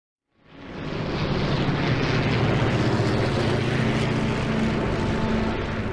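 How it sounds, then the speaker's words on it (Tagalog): Low-flying aircraft passing during the 1941 Japanese attack on Pearl Harbor, a loud, sustained propeller engine drone that swells in after a brief silence and holds steady, with a rough rumble and a faint whine. "Ang mga eroplano ay lumilipad ng napakababa."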